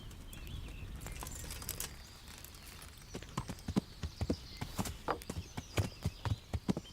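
Horse hooves clip-clopping in the medieval game Kingdom Come Deliverance, a run of distinct, increasingly loud hoofbeats arriving after a few seconds of quieter ambience, growing closer.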